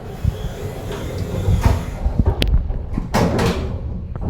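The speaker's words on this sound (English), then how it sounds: "Please mind the doors. Doors closing." A passenger lift at a Fenwick department store in Tunbridge Wells, built by Elevator Lift Services, shuts its doors: several close mechanical clunks and a sliding rumble over a low hum, ending in a firm thud.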